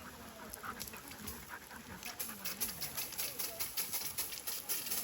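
A black female sled dog that has finished the Iditarod pants steadily in fast rhythmic breaths at a kennel in Willow, Alaska. The panting is close and moderately loud, with faint bird calls in the background.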